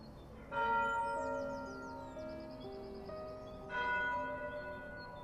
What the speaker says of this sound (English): As the bells tolled one by one